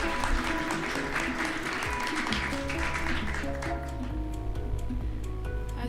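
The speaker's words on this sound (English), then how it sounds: "So please give them a huge round of applause." An audience at a TouchDesigner meetup claps, a dense, even wash of applause that holds steady and close throughout with no voices over it.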